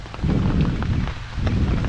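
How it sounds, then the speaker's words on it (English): Heavy rain pours down near a beach in Destin, Florida, a loud, close, steady hiss that stays dense throughout the short stretch with no voices. "It's raining on our head."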